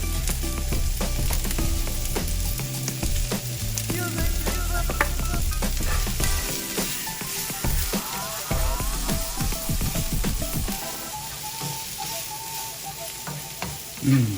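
Onions seasoned with garlic powder and black pepper fry in a pan, a loud steady sizzle with frequent scraping stirs and clatter close by throughout, no voices over it.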